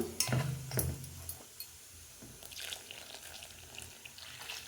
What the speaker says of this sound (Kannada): ನೀರು ಹಾಕ್ಬಿಟ್ಟು ಇದಕ್ಕೆ